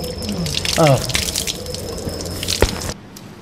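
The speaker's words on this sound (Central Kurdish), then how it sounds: "دەستەکانت بشۆ. دەوچاوت بشۆ." Tap water runs steadily while hands and face are washed for Islamic ablution, with splashing and dripping close by and a brief vocal sound partway through.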